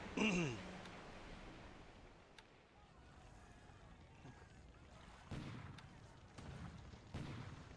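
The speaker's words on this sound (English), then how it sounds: "Alright, so he's bombarding, which means he's gonna flee." Naval bombardment in the War in the Pacific strategy game, a muffled boom at the start followed by low rumbling shell bursts and wave-like wash, faint and distant.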